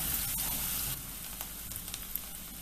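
Onion and garlic sizzle steadily in a hot pan, a dense continuous frying hiss that is loud at first and then eases slightly, with a few faint stirring clicks.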